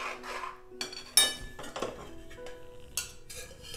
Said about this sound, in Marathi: दोन्ही मिश्रण आपण एकत्र करणार आहोत, म्हणूनच मी मोठी कढई घेतली आहे